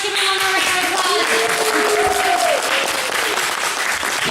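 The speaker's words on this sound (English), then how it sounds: "Give me one more round of applause." Audience applauding after a children's play, broadband clapping steady throughout with whistles or cheering tones weaving through, loud and close.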